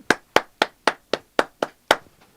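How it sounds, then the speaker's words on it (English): Eight sharp, evenly spaced claps ring out close and clear, each a crisp single hit with a short decay, resembling one person's hands more than a crowd, with no voices over them. "I must give them a big clap."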